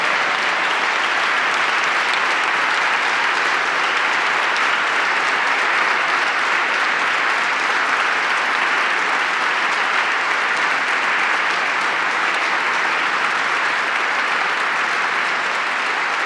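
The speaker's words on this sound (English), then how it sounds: "Got a lot of bipartisan claps for that." Legislators giving bipartisan applause in a state budget address chamber, a loud, dense, sustained roar of clapping that holds steady from start to finish.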